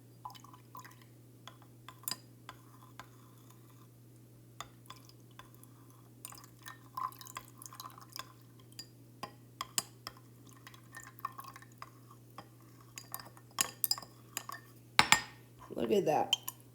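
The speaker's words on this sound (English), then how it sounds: "slowly add the sodium carbonate solution to the calcium chloride solution in B, stirring gently" Faint liquid pouring and dripping as sodium carbonate solution is added to calcium chloride solution in a beaker, with light glass clinks and tinkling of stirring, over a steady low hum, getting busier near the end.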